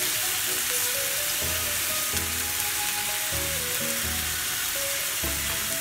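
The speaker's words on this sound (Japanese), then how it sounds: "ジューって、ジューって、油飛んでくって。" Food sizzles and fries in hot oil in a steady, close hiss that lasts the whole time, with a faint tune playing underneath.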